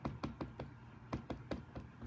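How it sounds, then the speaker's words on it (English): A phone on a desk knocked several times in quick, uneven taps, close and fairly quiet, with no voices. "I can see that I knocked my phone a little bit crooked"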